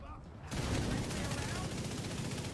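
Automatic gunfire in The Division 2 bursts in after a brief quiet start, a dense continuous rattle of shots, fairly close and steady throughout.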